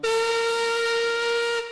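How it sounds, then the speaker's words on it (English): A steam engine whistle from the Locos Online video game gives one long, steady, shrill blast, loud and close, lasting under two seconds before cutting off abruptly. "Peter Sam whistled as long and as loudly as he could"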